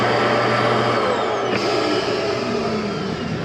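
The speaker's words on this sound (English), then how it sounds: "Also have a vacuum system." Central vacuum system in a 2023 Jayco North Point 377RLBH travel trailer: a steady, loud motor whine and airy roar running continuously, with a slight pitch shift partway through.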